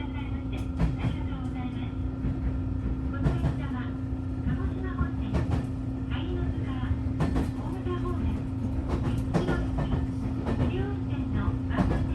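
A JR Kyushu Kagoshima Main Line local train rolls steadily along beneath elevated Shinkansen tracks, a constant low rumble with a steady hum and scattered clicks and rattles throughout, while a voice talks over it.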